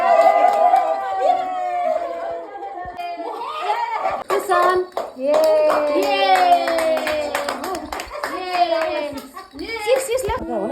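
Children clap in bursts of sharp, close hand claps alongside lively voices and chanting, with rhythmic claps scattered between the speech.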